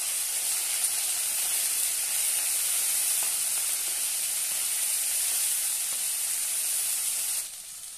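Finely chopped tomato sautéing with spring onion in a pan, a continuous loud, even sizzle and hiss that drops slightly in level at the very end.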